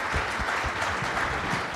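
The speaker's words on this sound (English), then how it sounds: "Let's give them a hand of applause." An audience gives a steady round of clapping after a panel discussion at the Cape Town Conversation 2024 event, a dense, even patter of many hands at moderate level with no voices heard.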